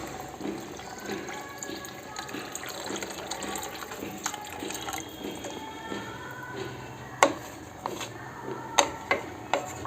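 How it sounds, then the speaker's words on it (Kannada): Two cups of water pour into rice for a vegetable pulao, a light splashing trickle with drips and a few sharp clinks of the cup against the pot near the end. "ಸೊ ಇದರಲ್ಲಿ 2 ಕಪ್ ನೀರನ್ನು ಹಾಕ್ತಾಯಿದ್ದೀನಿ."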